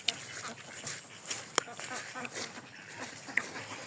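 Ducks quack in short bursts while splashing about in water, mixed with people talking close by.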